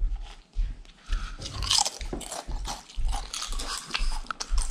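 Crunchy homemade potato chips being bitten and chewed up close, a run of loud irregular crackling crunches with brief pauses between bites.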